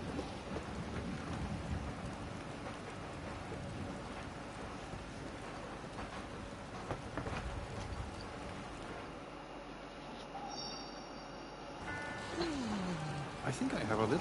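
Steady rain and low rumbling thunder in the Dreams video game, a soft continuous downpour heard at low level with a swelling rumble near the end, and a voice talking over it.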